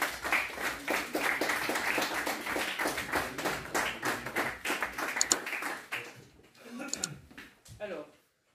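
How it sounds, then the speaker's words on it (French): Conference audience applauding in a hall during a business talk, a dense sustained wash of many hands clapping for about six seconds, then thinning to scattered claps and fading out. "Ce que je vous propose de faire, c'est de vous applaudir."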